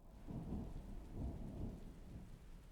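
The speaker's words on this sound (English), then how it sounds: "It was a dark and stormy Monday." A video game thunderstorm ambience rolls on with steady rain hiss and low, rumbling thunder swelling and fading beneath it, quiet and continuous with no voices.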